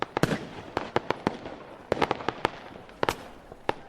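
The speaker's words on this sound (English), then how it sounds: "Fireworks sounds" Sharp fireworks bangs and crackles for a New Year's celebration, a dozen or so loud, irregular bursts with some doubled pops, close and alone over a faint background.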